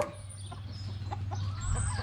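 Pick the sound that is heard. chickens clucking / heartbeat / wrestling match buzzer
chickens clucking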